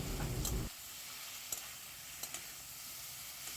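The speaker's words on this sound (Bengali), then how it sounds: "এবার আবার ভালো করে এটা নেড়েচেড়ে নেওয়া হচ্ছে যাতে আদার কাঁচা কন্ধটা চলে যায়" Tomato with ginger-chili paste is stirred in a hot pan: a quiet continuous sizzle with a few light utensil scrapes, and a brief louder burst at the very start.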